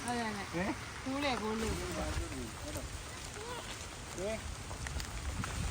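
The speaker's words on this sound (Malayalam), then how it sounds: "മഴ ഇപ്പോഴും പെയ്യുന്നുണ്ട് കേട്ടോ" Steady monsoon rain hisses in the background beside the Pamba River in Kerala while someone speaks over it, his voice mostly covering the patter.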